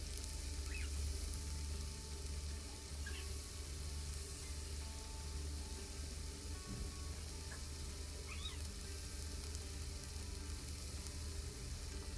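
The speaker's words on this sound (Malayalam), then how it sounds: "ഓരോന്നായിട്ട് എടുത്തിട്ട് നമുക്ക് ഡീപ്പ് ഫ്രൈ ആയിട്ട് എടുക്കണം" Potato pieces deep frying in hot oil for chilli potato, a faint, steady, even sizzling hiss throughout with a few small chirping squeaks, no talking.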